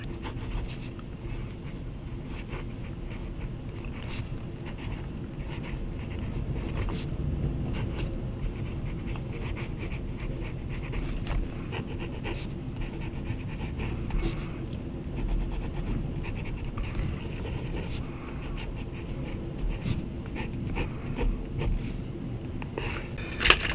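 A Parker 88 fountain pen with a medium nib writes on paper, a continuous soft close scratching with small strokes and ticks running for a long stretch, no voices.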